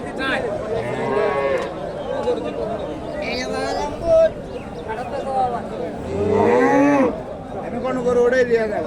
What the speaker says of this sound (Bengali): আর এটা গাভি